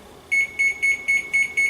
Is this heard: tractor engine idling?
no